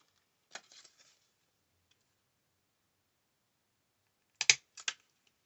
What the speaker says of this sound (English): I'm going to go ahead and punch this a hole in this just using my hole punch here from Fiskars.